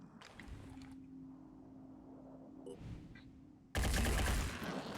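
Gunfire in the tactical video game Phoenix Point, a low steady hum and faint clatter giving way to a sudden loud, dense burst of shots near the end, with no talk.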